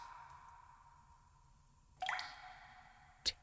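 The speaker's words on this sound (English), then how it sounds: "What is that dripping sound?" Water drips in a quiet, eerie horror game scene, a couple of distinct wet plops sounding close and clear over a low hum.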